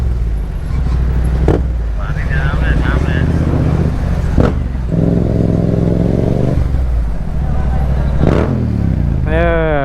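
A motorcycle travels on the road behind, its engine a constant low drone mixed with passing traffic, heard close and fairly loud beneath ongoing conversation.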